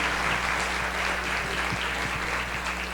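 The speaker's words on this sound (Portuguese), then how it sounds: "Vamos saudá-los com uma salva de palmas" Audience applause at a sports information and indicators conference session, a steady wash of many hands clapping with a low constant hum beneath, no talking.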